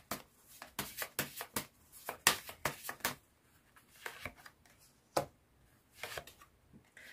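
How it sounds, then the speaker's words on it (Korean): Tarot cards are shuffled and drawn at close range, making a quick series of crisp riffling and slapping bursts, then a pause followed by a few more scattered card snaps. "네, 그렇다면 조언점 카드 뽑아보도록 할게요."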